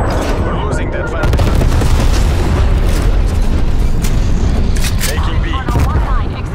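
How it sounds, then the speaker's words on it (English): A Call of Duty Cold War bomb strike on the Nuketown map: loud, sustained booming explosions and gunfire fill the whole stretch, with a voice talking over the blasts. "Bomb strike standing by."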